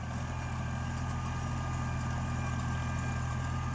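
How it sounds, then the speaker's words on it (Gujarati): A steady diesel tractor engine pulling a harrow rumbles continuously at close range, a low droning hum with no pauses and no voices. "હવે ટ્રેક્ટરને આ કંઠી આંકવાનું ચાલુ કર્યું."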